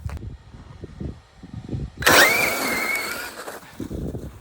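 A brushless Traxxas Summit RC truck on studded tires drives on ice, its electric motor suddenly whining up to a high, loud spin that holds for over a second and then fades, following quieter rumbling.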